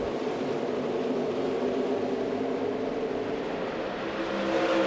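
NASCAR Xfinity race cars at Homestead-Miami Speedway accelerate with some wheel spin, a dense, loud, continuous engine roar from a pack of cars without pauses.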